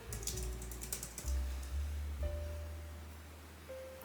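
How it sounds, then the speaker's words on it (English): Typing on a computer keyboard, a quick burst of light clicking keystrokes near the start, then quieter with only a low background hum. "let's type in celestial crochet."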